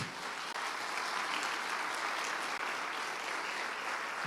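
A church congregation claps together in a dense, steady burst of applause that holds evenly throughout at moderate volume, with no voices above it.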